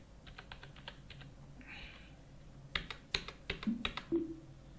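Someone types a number on a computer keyboard, giving quiet, close keystrokes in short irregular bursts, some light taps and a few sharper clacks near the end, with no talk.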